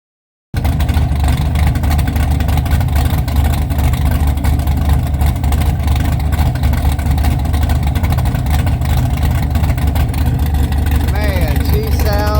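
A 600-horsepower pump-gas street engine on low compression runs loud and steady, a dense rumbling drone that starts abruptly after a moment of silence and holds to the end.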